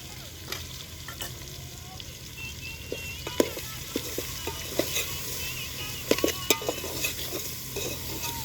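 Ginger paste stirred into food frying in a pan, with a steady sizzle under repeated scraping and clinking of the spoon against the pan. Cooking outdoors near a farm field, close and moderately quiet.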